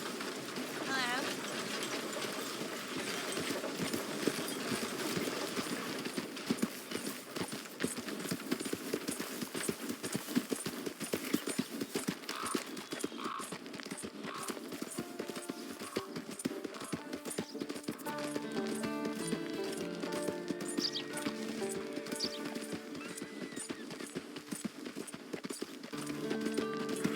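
A horse's hooves clip-clop in Red Dead Redemption 2, a steady rhythmic stream of close, crisp hoofbeats that continues throughout, with music-like tones entering in the later part.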